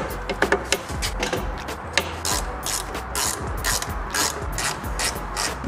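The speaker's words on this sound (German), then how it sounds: "Und so durch das Festziehen der Schrauben von innen sieht man auch, der zieht sich hier richtig rein" A hand ratchet tightens screws on a BMW E36 tail light, giving rapid repeated clicking strokes in steady bursts, close up and fairly loud, with no talking.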